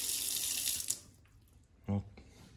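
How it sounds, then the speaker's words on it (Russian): Kitchen tap water pours into a glass in a country house, a steady rushing stream for about a second that cuts off, followed by a brief clink. "Пью прямо из-под крана."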